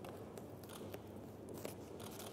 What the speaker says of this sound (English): And the scissors work.